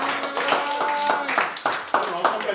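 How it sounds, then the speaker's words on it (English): Audience applause for the host at an event, a short burst of scattered clapping mixed with talking voices, fairly close and moderate in level. "Please give him a round of applause"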